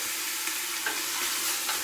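Continuous close sizzle of chicken thigh skin frying in a pot, an even broadband hiss with faint crackles and no voices.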